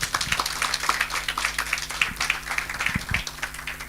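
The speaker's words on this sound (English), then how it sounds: "let's clap hands for them" Audience applause at a report launch on women workers' experiences of rights violations, honoring the women who spoke up; a steady wash of many hands clapping continuously throughout, fairly close and moderately loud.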